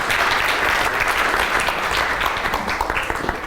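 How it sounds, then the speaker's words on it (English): Loud, dense audience applause filling a workplace talk venue as a Google speaker is welcomed, continuous and close throughout with no voices. "Please give a big round of applause to Kirk."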